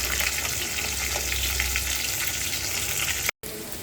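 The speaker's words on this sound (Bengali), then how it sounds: "আমি হালকা একটা ভাজা দিব মাছ।" Fresh koi fish frying lightly in oil, a dense continuous sizzle and crackle close by, briefly cut by a split-second gap near the end, with no voices.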